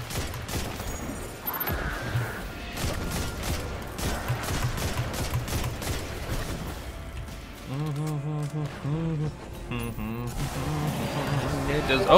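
Gunfire crackles in a Destiny 2 firefight, rapid bursts of shots and impacts running throughout at moderate volume, with a voice talking over part of it.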